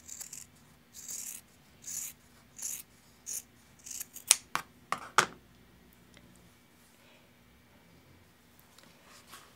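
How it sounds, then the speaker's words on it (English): Scissors cut through a fabric quilt block in a series of crisp close snips, first slower rhythmic strokes and then a quick cluster of sharper cuts before quiet. "Now take your block and cut a 1/4 inch away from your stitch line."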